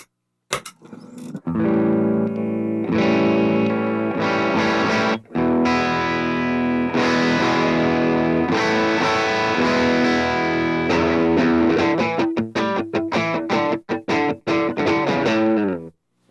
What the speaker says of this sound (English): So I want you guys to hear kind of what that single coil sounds like.